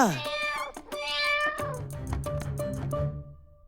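A cat meows several times in a series of drawn-out cries, close and fairly loud, with a voice speaking briefly at the start.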